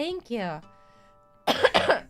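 A short voiced sound, a pause, then a couple of harsh, rough coughs in quick succession, fairly close.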